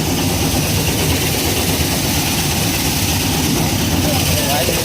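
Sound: tractor-driven threshing machine cleaning grain

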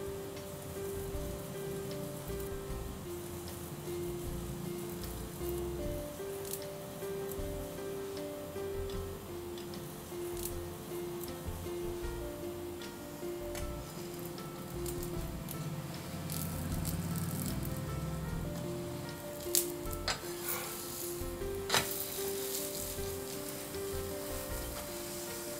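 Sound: laccha paratha roasting with ghee on griddle

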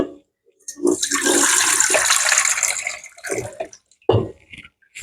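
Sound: milk and water being poured into flour

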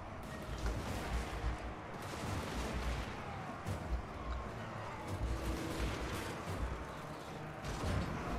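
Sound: troops firing guns in a video game battle

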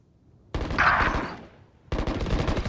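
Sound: gunfire in the video game Valorant

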